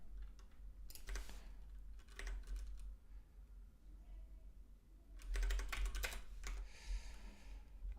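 Quiet bursts of typing on a computer keyboard during a live coding session, with clusters of rapid keystrokes separated by short pauses and a steady low hum underneath.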